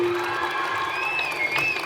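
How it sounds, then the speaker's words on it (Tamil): Audience applause at a Tamil comedy debate show (pattimandram) in Krishnagiri: a dense, steady wash of clapping and crowd noise throughout, with faint tonal sounds underneath. "திரைப்படத்துக்கும் கைதட்டுறீங்க, இலக்கியத்துக்கும் கைதட்டுறீங்க"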